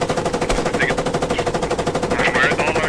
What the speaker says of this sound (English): I am getting shot at.